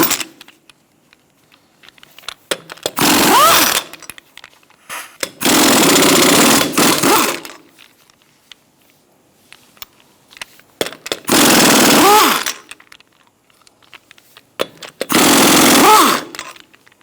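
An impact wrench removes the lug nuts from the front wheel of a 2002-2006 Toyota Camry with a 21mm socket, firing in four loud, separate bursts of rapid hammering with quiet gaps between them.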